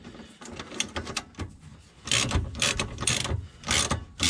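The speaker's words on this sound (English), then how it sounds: "And then get the ratchet on." Ratchet clicking in repeated bursts while tightening bolts on the rear suspension of a Kia Picanto during a spring replacement, close and fairly loud, with short pauses between strokes.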